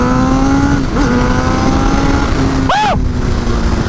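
A Honda CBR1000RR on a country ride, its engine holding a loud, steady drone under rushing wind. A short pitch dip and swoop comes near the end, then the steady hum returns.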